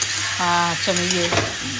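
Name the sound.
frying bottle gourd in a pan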